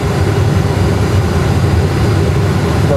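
Steady, loud airliner engine roar as thrust increases on a windy approach to Madeira Airport, a continuous low rumble with no breaks or voices.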